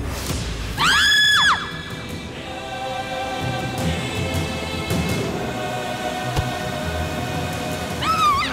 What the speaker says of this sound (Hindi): क्या हुआ, क्या हुआ, इतना क्यों चिल्ला रही है